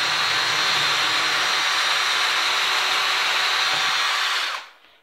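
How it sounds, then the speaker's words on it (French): A power drill bores through the first wooden board of a wardrobe build. Its high, steady whine runs loud and close for over four seconds, then spins down and stops. "On perce juste la première planche"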